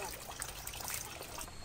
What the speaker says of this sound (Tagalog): Ito yung very natural and safe na spring water nila.